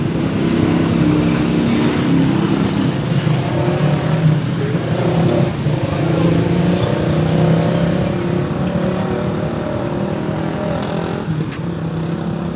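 Open-pipe motorcycle exhaust during a charity ride stop in Tiwi, Albay: a loud, continuous engine drone with slight revving swells throughout.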